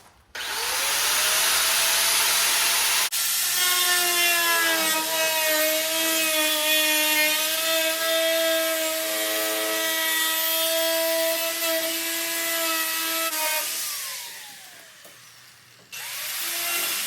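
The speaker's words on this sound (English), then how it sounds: "I'm going to mark underneath it, measure out, make another mark, and trim this roof" A power cutting tool trims a Corvette C6 roof panel with a loud, steady high-pitched whine that rises and holds for about ten seconds, then winds down and stops, close by.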